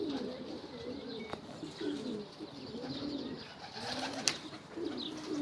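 Several pigeons kept in a loft coo softly and repeatedly in a steady low murmur, with occasional chirps and a brief sharp click near the end; no one talks.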